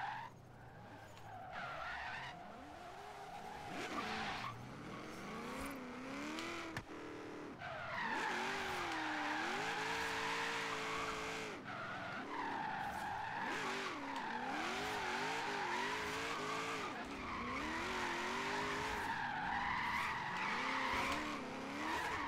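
Car drifting in Forza Horizon 3 on a snowy mountain course, with a revving engine and long sustained tire squeals and skids that rise and fall continuously.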